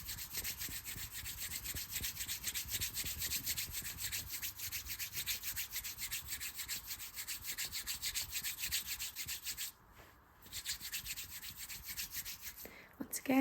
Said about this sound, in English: So just beginning by rubbing.